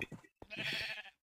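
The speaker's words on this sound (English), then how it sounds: "How did these sheep already get down here?" Sheep bleating in Minecraft, two or three short nasal bleats in quick succession at moderate volume, with no speech.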